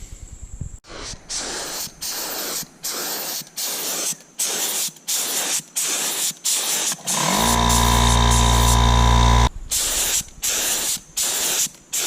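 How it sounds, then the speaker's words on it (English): An air sprayer applies paint to a school bus being converted into a skoolie, loud hissing bursts starting and stopping in a steady rhythm, with one longer continuous spray marked by a compressor-like tonal hum. "So when you're painting it, you're spraying it, you wanna make it so it's consistently wet everywhere."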